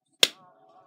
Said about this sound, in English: I'm snapping my fingers instead of making a heart